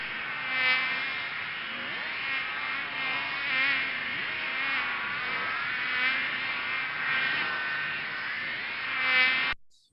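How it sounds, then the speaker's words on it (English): A swarm of gnats played as a sound effect: a dense, continuous high whining buzz that swells and fades slightly, then cuts off abruptly at the end. "This sound was horrendous as the gnats came"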